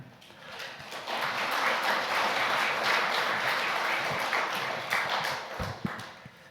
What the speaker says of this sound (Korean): 우리 장로님 나오실 때 우리 환영하는 마음으로 큰 박수로 환영해 주시면 감사하겠습니다.